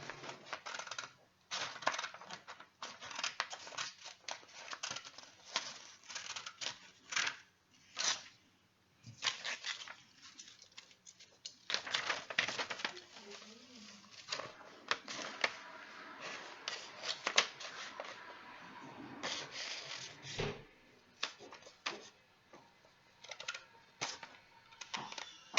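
A child snips paper with scissors, giving repeated short crisp cuts in irregular bursts with brief pauses, close and fairly quiet, with no talking.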